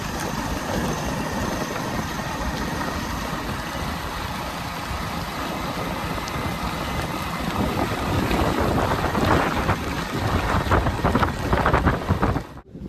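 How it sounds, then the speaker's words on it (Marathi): Strong wind at Mahadev Gad Point in Amboli roars and buffets loudly and continuously, gusting harder toward the end. "वारा सुटला ना काय सांगा"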